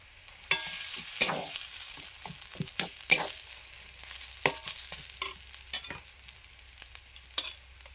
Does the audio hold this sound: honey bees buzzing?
no